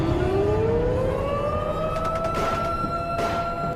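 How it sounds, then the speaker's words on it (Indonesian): A civil defense siren signalling the end of a curfew in Indonesia wails as its pitch rises steadily, loud and sustained over a low rumble, with a few faint clicks near the end. "setelah sirine tanda berakhirnya jam malam berbunyi"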